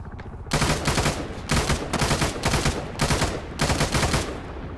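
Suppressed rifle fire in the video game Arma 3, an M16A4, comes in four or five rapid bursts of dense, loud shots separated by brief pauses, close and harsh with no speech.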